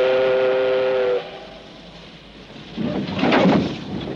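A train whistle sounds a steady held blast, then cuts off as rumbling departure noise of the train swells.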